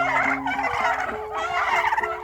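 Turkeys gobble in a farmyard, with loud, close, repeated warbling calls that overlap and run almost continuously.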